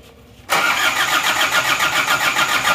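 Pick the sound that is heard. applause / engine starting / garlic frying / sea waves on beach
engine starting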